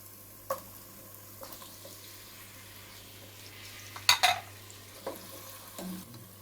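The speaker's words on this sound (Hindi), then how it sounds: "चिकन को हम अच्छे से फ्राई कर लेंगे" Chicken pieces fry and sizzle softly in a pot, with a steady low hiss and occasional scrapes and clinks of a stirring spoon against metal.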